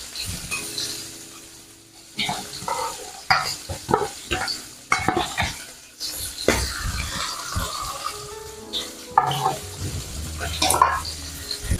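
Hilsa fish full of oil and roe fries in a pan for mustard hilsa, with oil spattering, crackling sizzles and repeated clanks of stirring, while a person talks over much of it.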